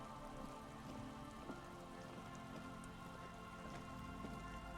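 Rain falls steadily in the video game Disco Elysium, a soft continuous hiss with distinct droplet taps spread across it, low in volume and heard alone without any voices.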